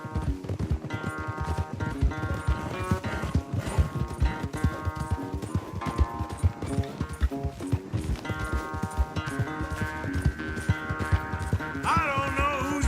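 A horse gallops in a race in Red Dead Redemption 2, rapid rhythmic hoofbeats pounding close under a steady music score.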